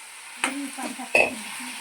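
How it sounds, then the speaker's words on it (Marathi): Fenugreek leaf curry (methi bhaji) being stirred in a frying pan, with a soft sizzle underneath and two sharper scrapes of the spoon against the pan. "हा चांगल्यापैकी हलवून घ्यायची मेथीची भाजी"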